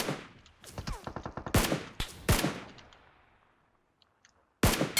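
Gunshots in PUBG Mobile: a rapid burst of automatic fire, then several loud single sharp cracks with decaying tails, a quiet gap, and one final loud shot near the end.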